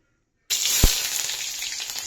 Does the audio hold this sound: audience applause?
no